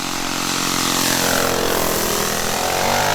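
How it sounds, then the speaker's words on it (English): A quarter-scale Sopwith Pup model biplane with a powerful engine drones past at just under a third throttle, a steady, fairly loud buzz whose pitch slowly shifts as it passes, heard alone without speech. "I'm just going to poodle by on just under a third throttle"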